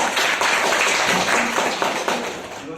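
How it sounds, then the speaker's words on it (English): Audience applause at a speakers' forum session: a steady, dense wash of clapping from a room of listeners, fairly loud and even throughout, easing off slightly toward the end. "Round of applause for"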